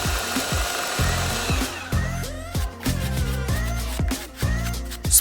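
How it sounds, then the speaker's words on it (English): A power tool sands rings into shape, its motor whining and pitching up and down in short repeated bursts, close and fairly loud with no talk. "Sand the rings into shape."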